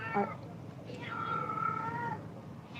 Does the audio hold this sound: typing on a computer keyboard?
no